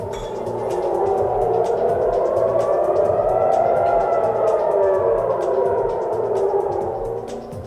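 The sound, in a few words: air raid sirens in Tel Aviv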